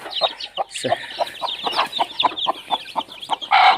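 A broody native hen clucks close by in a quick, uneven run of short, sharp clucks, ending in a louder burst.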